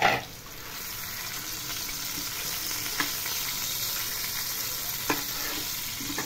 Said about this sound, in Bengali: এবার আমি এটাকে মিশিয়ে দেখাচ্ছি